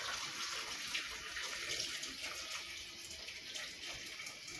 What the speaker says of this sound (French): on verse l'eau